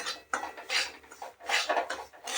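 A spoon scraping and stirring semolina as it roasts in ghee in a pan over a low flame for sheera, heard as close, steady rhythmic scraping strokes against the metal.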